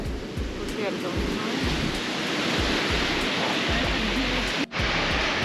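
Strong seaside wind buffets the microphone with rough, gusty rumbles over a continuous wash of surf on the Polish coast, loud and close, with a brief dropout near the end.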